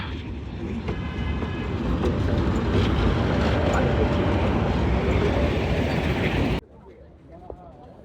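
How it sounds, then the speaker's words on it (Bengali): The 3 Up Narayanganj commuter train, hauled by locomotive 2307, rolls into platform 10 at Kamalapur railway station with a loud, steady rumble and clatter that cuts off sharply near the end, leaving quieter station ambience. "এইমাত্র নারায়ণগঞ্জ থেকে ছেড়ে আসা 3 আপ নারায়ণগঞ্জ কমিউটার ট্রেনটি এখন কমলাপুর রেলওয়ে স্টেশনের 10 নং প্ল্যাটফর্মে প্রবেশ করলো"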